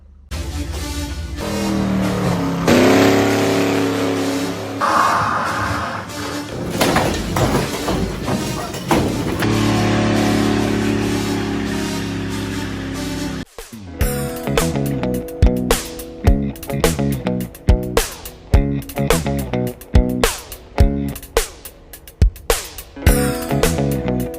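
A Chevrolet Camaro Z28 with a six-speed manual gearbox revs and accelerates hard on an outing, its engine note rising and dropping through gear changes, loud and close with choppy bursts in the second half.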